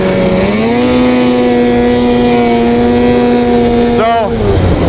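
A snowmobile engine revs hard during a wheelie, a loud sustained motor whine rising in pitch and holding high, then dipping sharply near the end before climbing again, close and dominant.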